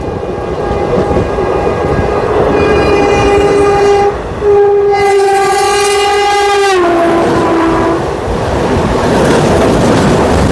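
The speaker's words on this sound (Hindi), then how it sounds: "ये रुनीचा एक्सप्रेस थी, रुनीचा।" The Runicha Express (14088) passenger train rushes past near the outskirts of Rewari Junction, loud and close, sounding long, sliding horn blasts over the heavy rumble of its wagons.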